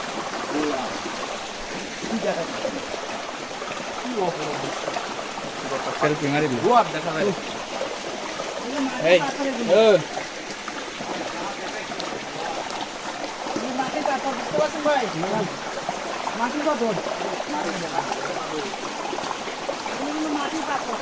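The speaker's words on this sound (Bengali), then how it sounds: "কি সুন্দর জিনিস কি স্বচ্ছ শীতল পানি" A clear, cool hill stream near Sreemangal flows in a steady wash of running water, with someone talking over it throughout.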